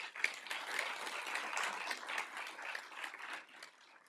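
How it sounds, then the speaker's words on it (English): Audience applause at a State of the City civic event for a former mayor, a dense, sustained wash of many hands clapping that tapers off toward the end. "So please give him a round of applause"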